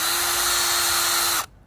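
An old, yellowed headlight lens being polished with a power tool, a loud, close, steady high whine with a constant tone that cuts off abruptly near the end.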